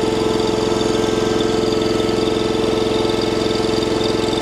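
An engine idles steadily and loudly up close with an even, rapid pulsing throb and no change in speed, running alone with no voices.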